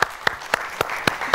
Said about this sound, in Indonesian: Tepuk tangan dong buat Nasar dan Mbak Mus.